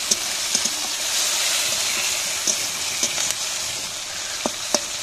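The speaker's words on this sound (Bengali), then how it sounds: "লবণটা দিয়ে দিই, পেঁয়াজটা গলে যাক" Onion with salt frying in a pan over a wood fire, a steady close sizzle and hiss with occasional sharp crackles and pops throughout.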